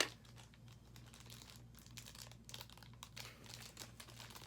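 Packaging crinkles and tears close by in quick, irregular bursts of rustling and crackling, steady but fairly quiet throughout, with no talking.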